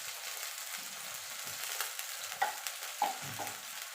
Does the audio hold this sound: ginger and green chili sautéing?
yes